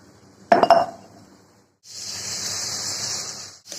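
Mango chutney with cane jaggery, sugar and water being stirred in a pot, giving a sharp clink of the spoon against the vessel followed by a steady bubbling hiss.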